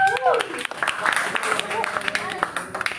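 An audience at a campus field visit applauding, scattered clapping building into a crowd patter, with a voice talking over it at the start.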